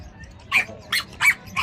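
A young corgi at a pet market gives four short, sharp barks in quick succession, close by and clear over quiet background noise.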